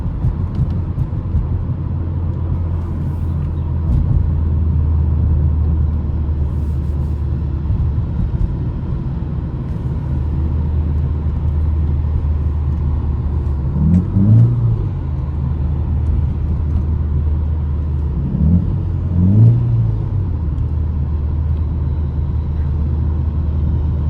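A remapped Ford Focus engine drones steadily and close, with two short rises in revs partway through and no talking.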